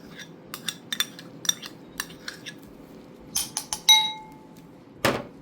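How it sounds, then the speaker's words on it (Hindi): A utensil mixes salted butter in a bowl for eggless custard cookie dough, making scattered light metallic clinks against the bowl, close and intermittent, then a louder scraping clatter near the end. "बटर को अच्छे से मिक्स करेंगे."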